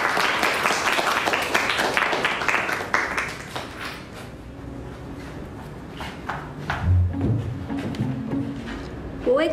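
An audience at a school recitation gathering claps for a student, a burst of close, lively applause that fades after a few seconds into scattered taps and quiet room noise.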